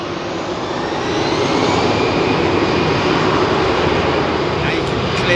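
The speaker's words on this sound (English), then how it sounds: "That's a Boeing 737 in front of you right there." Boeing 737 Next Generation jet at London Heathrow, a loud steady engine roar with a broad rushing hiss that builds slightly and holds, while a voice talks faintly beneath it.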